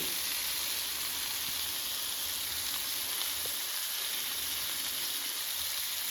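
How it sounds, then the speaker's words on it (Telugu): Fish pieces for fish biryani fry in a pan with a steady, dense, close sizzle and hiss that holds constant throughout, with no pauses and no talking. "ఫిష్ అయితే ఫ్రై అవుతున్నాయి"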